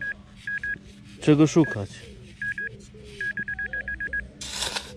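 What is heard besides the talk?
metal detector signal beeps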